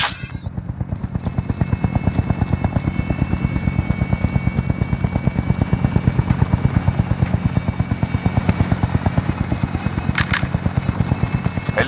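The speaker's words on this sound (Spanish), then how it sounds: "Helicóptero en posición." A helicopter in the video game Call of Duty Warzone, with steady, loud rotor chopping that stays close and constant, and a faint gunshot or two in the background.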